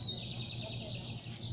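A bigodeiro songbird gives high, thin chirps over a steady background hum, two brief sharp calls at the start and near the end, fairly close, with no talking.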